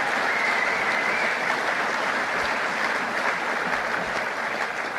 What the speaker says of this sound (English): give him one more round of applause.